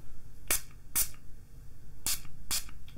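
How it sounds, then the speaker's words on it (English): Four short bursts of a spray bottle misting a customer's hair in a barber shop, in two quick pairs, crisp hissy spritzes close by over quiet background. "Let me just spray your hair a bit."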